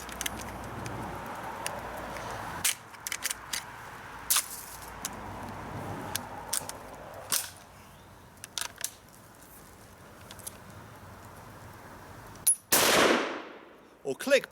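A rare 1889/96 Schmidt-Rubin rifle fires original paper-patched, smokeless ammunition outdoors: scattered mechanical clicks and handling noises come first, then after a delay a single sharp, loud shot rings out and decays quickly.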